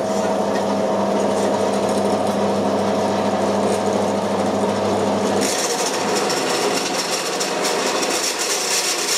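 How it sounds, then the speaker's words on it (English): A large drill on a drill stand grinds steadily through material up close, a continuous rough whirring that shifts to a harsher, brighter pitch partway through. "It's quite a big drill we're using here."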